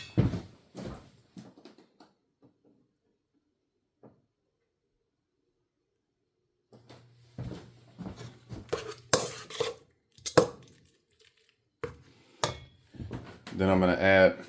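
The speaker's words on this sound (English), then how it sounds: "I'm going to incorporate my egg whites into my butter." A utensil knocks and scrapes in a bowl as egg whites are mixed into butter for pineapple upside-down cake, clattering bursts coming after a quiet stretch, with a voice talking over part of it.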